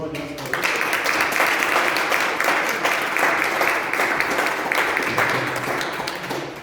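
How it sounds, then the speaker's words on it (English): Sustained applause from a Toastmasters debate audience, dense steady clapping that stays loud throughout, with some voices mixed in the crowd noise. "Ladies and gentlemen, big round of applause for our debate chair."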